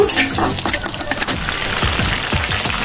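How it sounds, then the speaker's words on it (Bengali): Oil sizzles and crackles steadily as whole spices including cloves fry, with sharp popping sounds scattered over a continuous hiss, close by. "মশলাগুলো একটু ভেজে নিব।"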